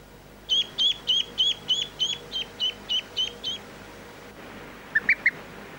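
Ducklings peeping, about eleven high chirps in a steady rhythm, then a pause before three more quick peeps.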